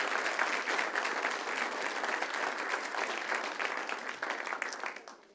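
An audience at a township council meeting applauds steadily, a dense wash of clapping that holds for several seconds, then begins to fade toward the end.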